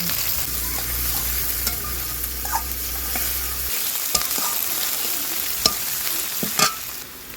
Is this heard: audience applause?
no